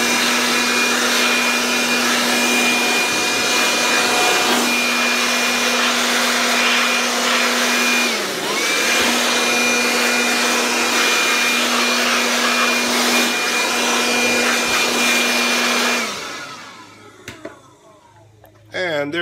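A loud, steady air blower whines for about sixteen seconds, drying freshly cleaned front brake parts on a 2016 Hyundai Tucson during a pad replacement, with a brief dip midway before it shuts off and clatters.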